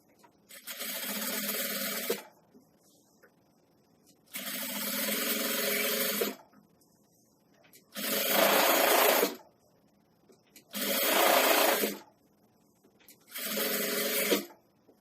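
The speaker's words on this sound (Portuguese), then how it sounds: "Eu vou ter que passar outra costura aqui pra não abrir." A sewing machine stitches a seam on a nursing pillow with lace trim in five separate bursts of steady rapid whirring, each lasting one to two seconds with short quiet pauses between them, close and loud.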